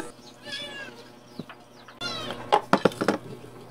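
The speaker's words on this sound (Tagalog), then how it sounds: "Ang aming alagang pusa ay hindi rin natigil magngiyaw." Pet house cat meowing in a home kitchen during cooking, a drawn-out meow followed by several shorter, louder meows close by against quiet background noise.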